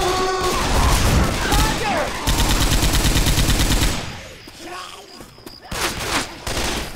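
A big gun in the zombie shooter Left 4 Dead 2 fires loud, rapid automatic bursts that run nearly continuously. There is a brief pause, then a second dense volley, followed by quieter scattered shots and game noise with some voices.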